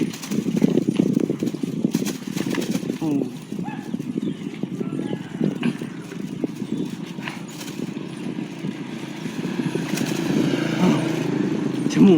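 Horse hooves clip-clop in a steady, close, moderately loud rhythm on a road during a bicycle ride, with a low background rumble that swells toward the end.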